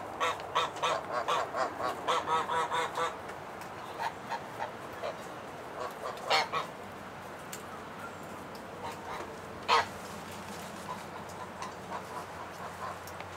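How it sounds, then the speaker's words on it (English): A flock of geese honks repeatedly nearby, a busy cluster of calls at first, then scattered louder honks over outdoor background noise. "The geese are walking past."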